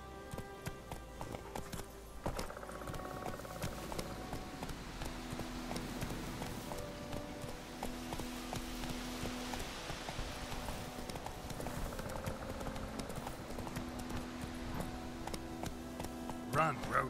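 The horse Roach trots in The Witcher 3: Wild Hunt, a steady rhythmic clip-clop of hooves that runs throughout alongside layered game music and ambience.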